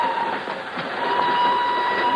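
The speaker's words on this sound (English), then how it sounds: "she's aboard a northbound train rolling out of Lisbon" A northbound train rolls along in an old-time radio drama sound effect, a steady rushing rumble with a faint sustained tone running through it, loud and close with no clear clickety-clack rhythm.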